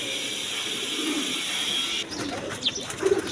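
Pigeons of various breeds, including high-flying Giribaz, coo in a rooftop loft, soft low burbling calls amid a steady background hum, with a few fuller coos and shuffling toward the end, near and moderately loud.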